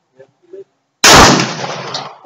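One loud, close gunshot from a .45 pistol cracks out after a couple of faint brief sounds, its blast decaying into a lingering outdoor echo.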